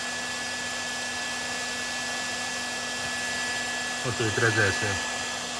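Steady whoosh of a construction heat gun blowing hot air to melt solder on a damaged Škoda's wiring, continuous and fairly loud, with brief clicks and a short spoken remark near the end.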